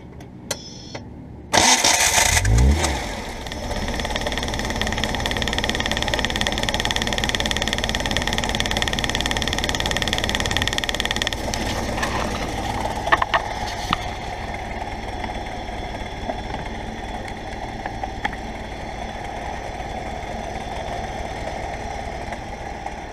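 A Renault 9 engine fitted with a Kangoo 1.9 diesel starter motor cranks briefly and catches with a sudden loud burst. It then runs at a steady, buzzing idle, and a few clicks and knocks appear partway through.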